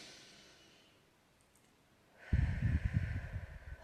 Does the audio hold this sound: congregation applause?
no